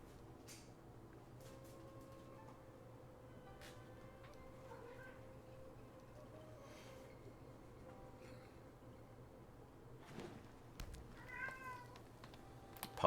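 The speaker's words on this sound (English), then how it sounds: "Apologies for the cat noises in the background today." A cat meows a few times in the background, faint and intermittent, with a louder burst near the end over a steady low room hum.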